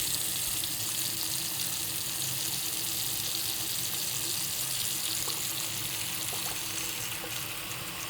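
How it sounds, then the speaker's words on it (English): A bathroom sink faucet runs steadily into a clogged sink that is filling up, a constant close hiss of water with no talk. "The sink fills up with water faster than the drain can take care of it"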